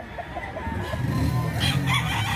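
Fighting cocks crow at a gamecock market in Bocaue, Bulacan, with a rising crow near the end over a steady backdrop of crowd and yard noise.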